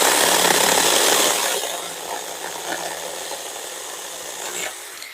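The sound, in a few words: mini chainsaw cutting through a dead tree branch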